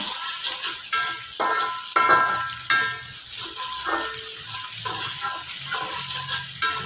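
Dried red chillies frying in oil for a noodle stir fry, a close crackling sizzle broken by repeated stirring scrapes and taps of a utensil against the pan.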